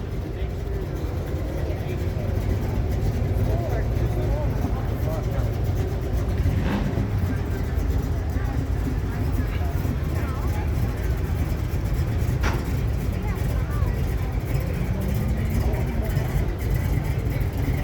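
At an outdoor car show, a car drives past with a steady rumbling engine and road noise that stays loud throughout, while people talk nearby.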